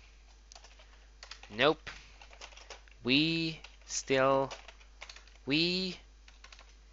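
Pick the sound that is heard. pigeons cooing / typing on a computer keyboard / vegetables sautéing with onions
typing on a computer keyboard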